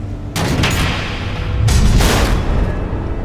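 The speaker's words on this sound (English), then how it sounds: "The missiles." Missiles explode in Batman: The Enemy Within, two heavy booming blasts about a second apart, loud and close, followed by rumbling debris, no talking.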